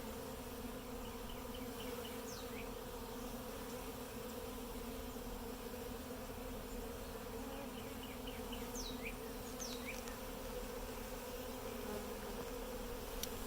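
A steady, faint buzzing drone of many honeybees fanning together at a Flow Hive, with a few faint chirps of birds in the background.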